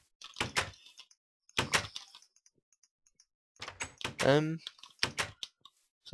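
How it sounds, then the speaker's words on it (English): Computer keyboard clicks come in short clustered bursts during a Minecraft gaming session, close and fairly distinct, separated by silent gaps, with a brief spoken word among them. "I know you can hear my keyboard in the background of this as well"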